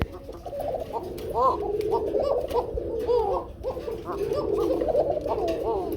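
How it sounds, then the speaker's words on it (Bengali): A pair of pigeons cooing loudly nearby, repeated rolling coos overlapping one another in a steady stream. "খুবই সুন্দর ডাকে এই পেয়ারটা, খুবই সুন্দর ডাকে।"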